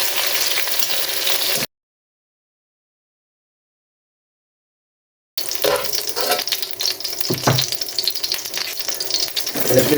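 Chicken frying in a pan for chicken caldereta, a steady loud sizzle with stirring that cuts out into a few seconds of silence before returning with scraping and crackle.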